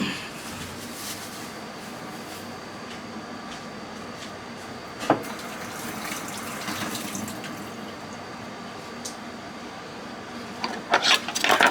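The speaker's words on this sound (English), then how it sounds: "I gotta go rinse them, because I didn't rinse them yet." Kitchen tap running steadily while scallions are rinsed, a low continuous wash of water at moderate distance with a sharp knock midway and clattering handling noises near the end, no speech.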